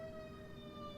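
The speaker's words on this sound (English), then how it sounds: "Sorry, I got sirens." Emergency sirens heard faintly in the background, a steady wailing tone over low rumbling noise, distant and quiet with no talk.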